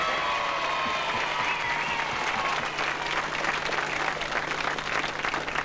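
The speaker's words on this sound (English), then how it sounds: "Give him an extra round of applause." Studio audience applause for a young performer's first appearance on the Young Talent Time TV show, loud and sustained, a dense steady roar of many clapping hands with a faint electrical hum beneath.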